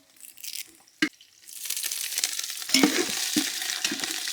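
Curry leaves drop into hot oil with frying onions and green chilli, setting off a sudden, strong sizzle that carries on steadily, with a few utensil knocks against the pan.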